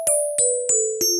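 Nord Drum 3P FM percussion with the filter fully open on the attack, giving four harsh, bright metallic hits at a steady pace, each a sharp noisy transient over a ringing pitched tone, close and with no other sound.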